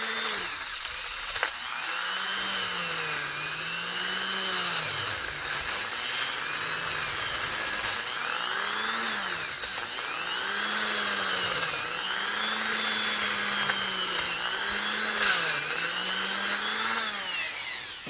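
Power drill spinning a small bristle brush inside a fouled spark plug, a close steady whine that dips and swells in repeated cycles as the brush is pushed in and eased off.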